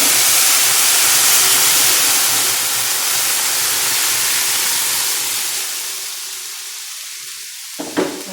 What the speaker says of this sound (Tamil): இப்போ நான் பருப்பை ஊற்ற போகிறேன்.